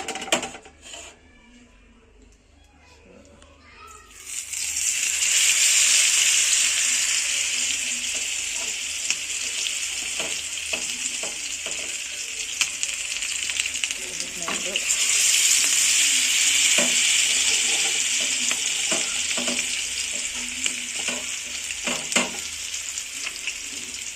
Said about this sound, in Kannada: 3 ಫಿಶ್ ಮ್ಯಾರಿನೇಟ್ ಆಗಿದೆ, ಈಗ ಫ್ರೈ ಮಾಡೋಣ